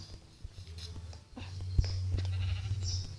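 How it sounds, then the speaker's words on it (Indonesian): A Minecraft cow lows with a low, steady drone under faint in-game background noise, a short sharp click cutting in partway through. "Oh, ada sapi nih."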